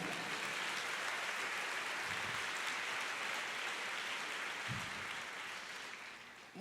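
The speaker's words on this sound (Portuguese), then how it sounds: "pode aplaudir o Senhor" A church congregation applauds in a steady, dense wash of clapping that holds evenly throughout and tapers slightly at the end.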